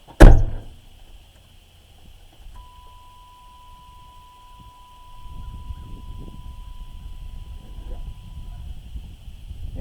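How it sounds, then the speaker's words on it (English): A solid thunk of a 1994 Chevrolet S-10 door shutting right at the start, followed by a steady electronic buzzer tone and low engine-like rumble building in the background. "I'm gonna close this door too, so maybe the buzzer won't go off with the door closed."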